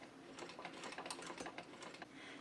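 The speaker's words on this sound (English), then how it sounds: "I've also got a vintage domestic sewing machine. This is the Singer 15 K80." A vintage Singer 15K80 hand-crank domestic sewing machine stitches heavy upholstery fabric, giving a close, steady run of rapid mechanical clicks and needle thumps with no talking.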